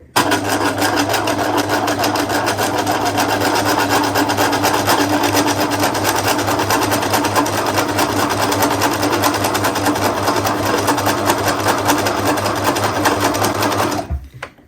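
A sewing machine stitches free-motion embroidery on fabric gift tags in a loud, rapid, continuous mechanical whir that runs almost without break close to the microphone, then stops abruptly at the end.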